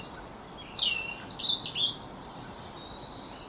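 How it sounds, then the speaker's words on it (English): Birds singing in a late-January dawn chorus before daylight, with a few high, bright chirping phrases clustered in the first two seconds over a soft outdoor background hush. "And you can definitely hear the dawn chorus today, or this morning."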